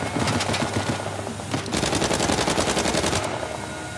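Sustained rapid automatic gunfire from Uncharted 4 on PS5, loud and continuous close bursts with a brief pause midway, no talking over it.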